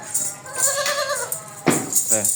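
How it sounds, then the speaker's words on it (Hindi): Pateri goats bleat on a goat farm in Karachi, a few wavering calls heard close up over a continuous background hiss. "दो पटेरी बकरी आई है माशाल्लाह"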